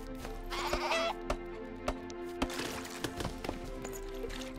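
Sheep bleat in Craft The World, a couple of distinct cries over a soft game backdrop with scattered clicks and knocks.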